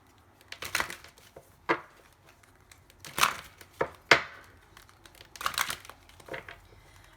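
A deck of tarot cards is shuffled close by in quiet bursts of riffling and slapping, with scattered crisp clicks and short pauses between them.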